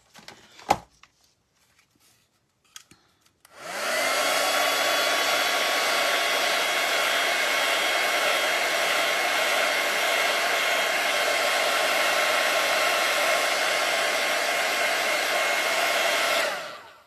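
A hair dryer drying craft pieces: after a few faint clicks and handling sounds, it switches on and runs as a loud, steady whirring blow for over ten seconds before stopping.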